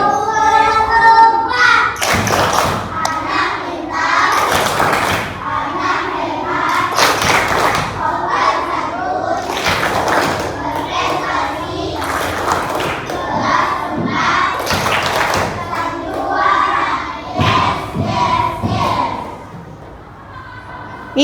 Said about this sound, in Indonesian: Kita melakukan ice breaking tepuk kelas 4.